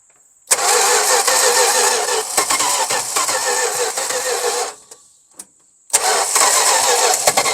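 A Chrysler Slant Six engine with a rebuilt carburetor cranks and fires, running loudly for about four seconds, cutting out, then restarting and running again near the microphone.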